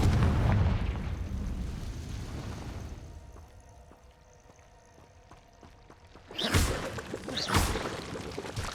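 Blasting-spell explosions in a wizard-school fantasy game: a heavy rumbling blast fades into quiet, then two more sharp booming bursts hit near the end, loud and close, with no talking.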